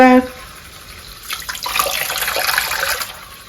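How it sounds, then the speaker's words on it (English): Water runs from a kitchen tap, a steady close splashing stream starting partway through and continuing to the end, preceded by a brief tonal sound. "So we'll run some water."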